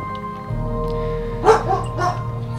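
Dogs bark twice in short bursts over a steady hum of game music in a Minecraft server session, moderately close and loud.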